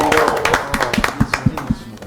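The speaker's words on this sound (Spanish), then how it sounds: "Vamos a aplaudir al don Humberto Remache." An audience claps for Don Humberto Remache, scattered hand claps in an uneven rhythm, near and moderately loud, with voices talking over the start.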